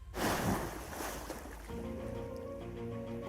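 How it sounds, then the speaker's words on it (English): Water sound with a splashy, surf-like rush at the start, settling into a steady watery wash with a faint tonal hum underneath. "especially using water sounds to enhance the key moment"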